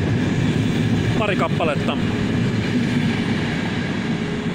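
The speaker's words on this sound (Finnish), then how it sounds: "Ja siinä vielä sekä kaksikerroksinen että yksikerroksinen lähijuna." A commuter train rumbles through a Lisbon station with a loud, continuous low roar. Someone speaks briefly near the microphone over the noise.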